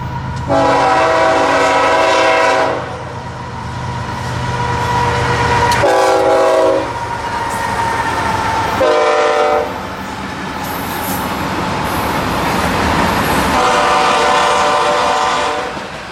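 A BNSF freight lash-up of GE and EMD locomotives rumbles past up close and loud, with several long horn blasts sounding over the steady roar of the passing train.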